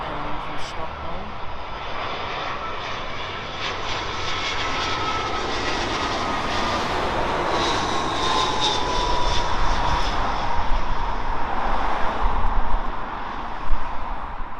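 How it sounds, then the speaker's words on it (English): A British Airways Airbus A319 arriving from Stockholm fills the scene with a loud, continuous jet roar that swells slightly as it passes nearby, with a broad hiss throughout. "British Airways A319, and that's coming in from Stockholm."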